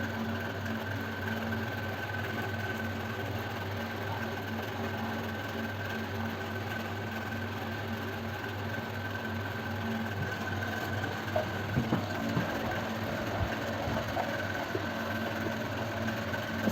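A sewing machine stitches a kurti collar neckline with a steady, continuous mechanical hum and whir that runs throughout, with a few small clicks near the end and no talking.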